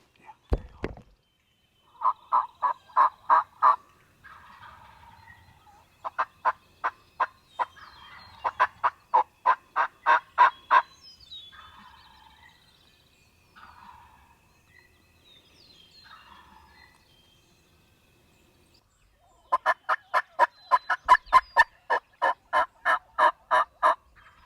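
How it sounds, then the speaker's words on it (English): Wild turkeys gobble during a Missouri spring hunt, two birds answering in sequence with rapid rattling bursts, clear but somewhat distant, separated by quiet gaps and faint rustling. "And they're both gobbling in sequence."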